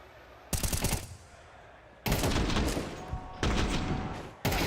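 Rapid rifle gunfire from a Counter-Strike match at a major esports semi-final, loud automatic bursts in three or four long strings separated by brief pauses.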